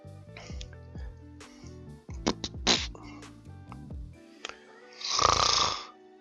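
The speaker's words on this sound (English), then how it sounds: "Snore." A few snoring-like snorts and nasal breaths in irregular bursts, ending with a louder rasping exhale, set against quiet electronic game sounds.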